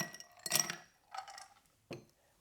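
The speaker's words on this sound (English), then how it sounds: "Then we'll go ahead and put some ice in" Ice cubes dropped into a glass cup for an iced tea drink, a few sharp clinks and rattles in separate bursts, close and fairly quiet.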